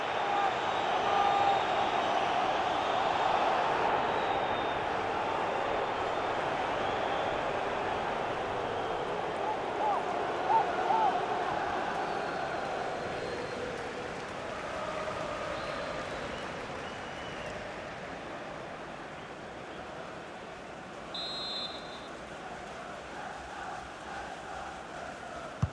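Stadium crowd in FIFA 21 during Liverpool vs Leicester City in the Premier League: a steady, dense roar of cheering fans that slowly swells and fades, with a commentator talking over it.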